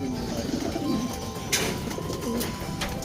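Racing pigeons cooing in a loft, soft repeated throaty coos rising and falling over a steady hiss of background noise, with a few brief rustles and flutters among them.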